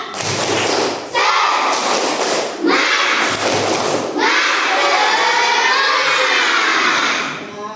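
Primary schoolchildren in a classroom perform a loud, spirited clapping chant, rhythmic bursts of hand claps and thumps mixed with shouted, sung voices in unison that swell and rise together.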